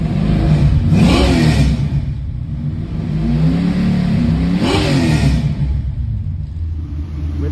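A 1979 Camaro Z/28 V8 revving through a 3-inch X-pipe with 40 series Flowmaster mufflers and dumps at the rear axle, two loud rising revs over a deep, rumbling idle, close and alone.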